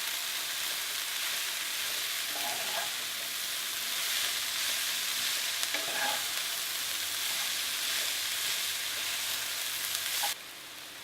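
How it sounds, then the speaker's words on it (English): Cabbage frying in a pan with salt and pepper gives a steady bright sizzle throughout, with a few soft stirring scrapes now and then and no voices. "I'm going to very gently work all these ingredients in together and fry off the cabbage"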